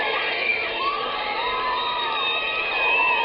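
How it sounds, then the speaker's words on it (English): A crowd of young Beatles fans screaming and cheering outdoors, a dense, sustained wall of high-pitched shrieks and shouts that holds at a steady level throughout. "That calls for more screams."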